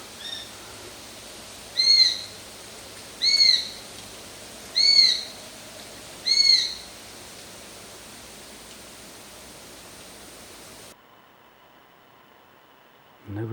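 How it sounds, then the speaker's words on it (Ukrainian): A young northern goshawk calls four times at even intervals, thin repeated cries from some distance over a steady wash of background noise. "по голосу я б сказав, що це голос молодого яструба тетерев'ятника"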